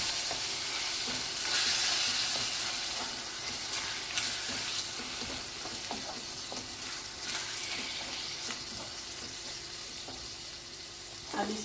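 Crushed tomatoes and pasta sauce stirred into keema frying in a pan, with a continuous sizzle and soft scraping that go on steadily throughout.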